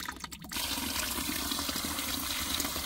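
Water rushing steadily into a heating system's cold feed tank after a blocked feed pipe is cleared, a continuous close, loud filling flow that starts abruptly after a brief quieter moment.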